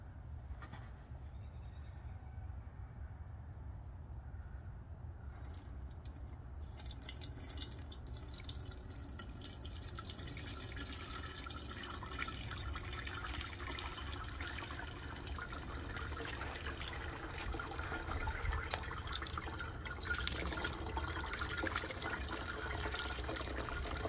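Thick melted wax pours and trickles steadily for a long stretch, a soft continuous stream that slowly grows fuller and louder, with no talking.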